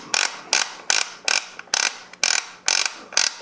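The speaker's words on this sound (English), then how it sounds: "unscrew this nut" A nut is unscrewed by hand on a Benelli MR-1 rifle during disassembly, giving about nine short, even rasping bursts in a steady rhythm, close and clear with no talk.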